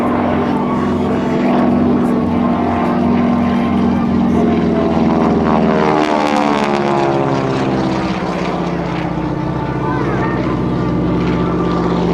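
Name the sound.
North American AT-6 Texan propeller plane flying at airshow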